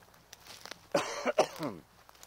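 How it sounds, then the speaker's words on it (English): A few harsh, raspy coughs come in quick succession close by, with no talking around them. "The reason I'm coughing so much today."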